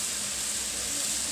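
Kolmi shaak (water spinach) sizzles steadily in a pan over a high gas flame as it is stirred, a dense, even hiss that is close and fairly loud throughout the brief moment.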